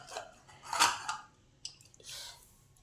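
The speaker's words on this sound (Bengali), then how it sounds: "এবার ঢাকাটা খুলে দেখি কি ভেতরে অবস্থা।" Metallic clanks and scrapes as the lid of a pressure cooker holding cooked chana dal with papaya is opened, a few separate knocks and rattles over about three seconds, close and fairly quiet.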